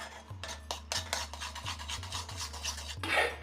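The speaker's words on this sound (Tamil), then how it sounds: "ஓப்பன் பண்ணியே நல்லா கிளறி விடலாம்" A spoon scrapes and stirs a thickening homemade malt mixture in a pan, making repeated close rasping strokes in an uneven rhythm with soft thuds beneath. No one speaks.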